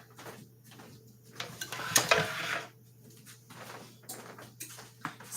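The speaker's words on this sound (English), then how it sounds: "Let me get my skillet." A non-stick skillet is pulled out and handled in a kitchen, giving close clattering knocks and metallic rattles, busiest in a short burst midway, with scattered lighter bumps.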